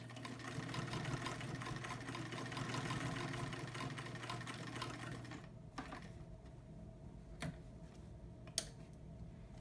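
Vintage Brother 190 Flairmatic sewing machine stitching zigzag through four layers of denim, a rapid ticking motor clatter that runs steadily, then stops and leaves a few faint clicks and a sharp tap near the end.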